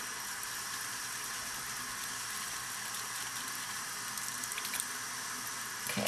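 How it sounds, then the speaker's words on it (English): A faucet runs into a sink as hands and makeup brushes are rinsed, a steady, fairly soft hiss of flowing water with faint dripping and splashing changes near the end. "so I'm going to rinse my hand off"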